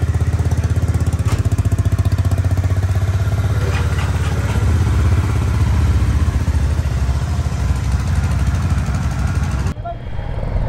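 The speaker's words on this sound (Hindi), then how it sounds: "तो गाइस एक बार कोल्ड स्टार्ट कर लेते अपनी बाइक का।" A motorbike's engine idles after a cold start, a rapid, steady mechanical chugging with a clattery edge, close and loud, running evenly before cutting out near the end.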